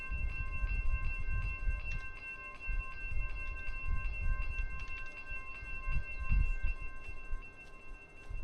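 A train rolls along the main line in a virtual model railroad game near Roseville, with a steady low rumble and faint wheel clicks over a constant tonal engine hum, moderately close and continuous.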